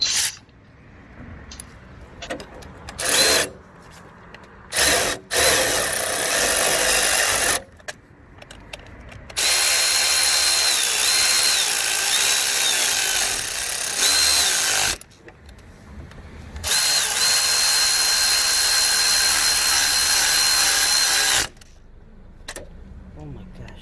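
A power tool, likely a ratchet gun, runs in several loud bursts of varying length while loosening engine mount bolts on a K20 series engine, with clanks and tool handling between the bursts.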